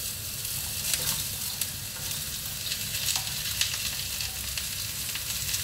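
Fresh carrots, beans and potato sauté in a hot pan, giving a dense, steady sizzle close up, broken by a few sharp scraping stir strokes, with no voices.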